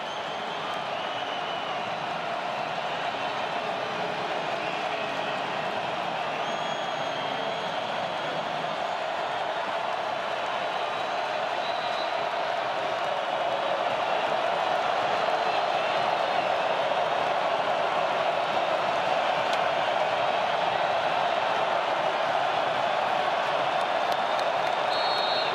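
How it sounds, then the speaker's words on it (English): A sellout crowd at a college football game between Old Dominion and James Madison roars in a sustained, dense wall of noise that swells slightly louder toward the end, with a commentator's voice faintly underneath. "Sellout crowd in full voice"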